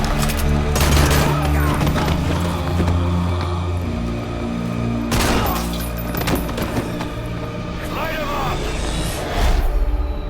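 Heavy gunfire from a gunship in a video game: sustained, loud bursts and booms roll on without pause, with voices talking over the barrage.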